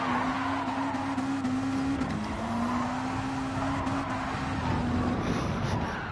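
A Suzuki Pikes Peak rally car engine in Gran Turismo 7 Gr.B racing holds a steady, sustained drone at high revs with only slight pitch dips, continuous and fairly quiet, with no speech over it.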